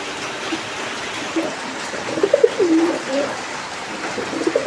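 Several soft pigeon coos come and go over a steady watery background hiss, moderately close, with a few low murmured calls clustered midway.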